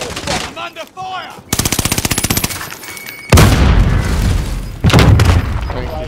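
Gunfire in the video game Warzone: a rapid rattling automatic burst followed by heavy booming shots, loud and close, with brief clipped voice chatter early on.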